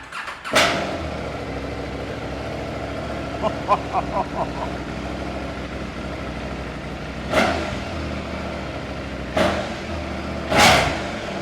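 A Triumph Tiger 900 Rally Pro motorcycle starts and idles with a loud exhaust, sending a few sharp revving bursts over a steady engine rumble. A short run of faint clicks sounds in the middle.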